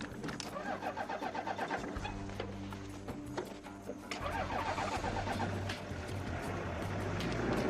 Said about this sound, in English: Start the car up, Chris.